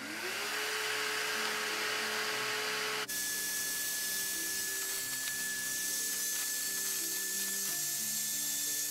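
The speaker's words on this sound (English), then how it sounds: "Get your little vacuum." A small vacuum pump sucks air out of a memory foam pillow bag, giving a continuous whirring motor drone with a hissing airflow, steady and close, its pitch shifting abruptly about a third of the way through.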